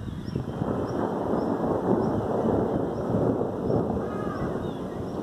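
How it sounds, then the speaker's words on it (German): An approaching heavy summer thunderstorm rumbles in Ingolstadt, with a continuous deep roll of thunder and gusting wind noise across the microphone, loud and sustained with no distinct breaks. "Das Gewitter ist schon so gut wie da."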